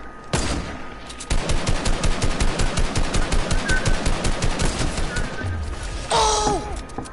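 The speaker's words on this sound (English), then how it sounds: "This man is trying to snipe with a shotgun." Rapid, loud gunfire in a video game, with repeated sharp shots in a fast, steady rhythm for several seconds and a brief burst of other game sounds near the end.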